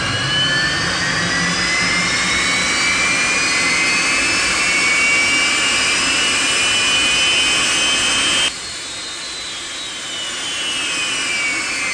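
Test firing of a Skylon aircraft engine, a loud continuous roar with rising whining tones that suddenly drops in level near the end and then builds slightly again.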